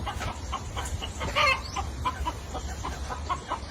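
Chickens cluck in short, scattered calls over a steady low rumble, with one louder burst of squawking midway.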